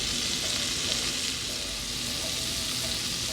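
Two tablespoons of Irish-style butter melt in a skillet over medium heat, giving a steady, close, even sizzle and crackle that stays level throughout with no talking.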